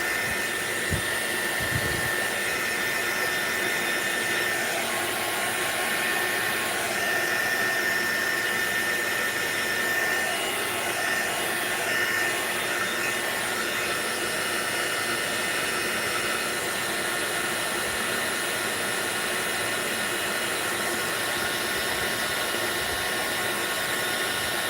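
A handheld dryer blows steadily over fresh Mod Podge on a decoupage craft, a loud continuous whirring hiss that holds at an even level throughout without pause.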